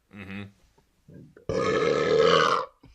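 A long, loud burp right into a podcast microphone, a sustained rumbling belch of about a second, preceded by brief vocal noises.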